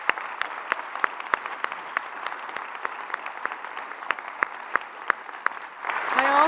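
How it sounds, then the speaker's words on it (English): Sparse, moderate applause from a small audience thanking parents at a charter school ribbon cutting, individual claps audible over a soft wash, before a voice resumes at the end. "can we give them a round of applause?"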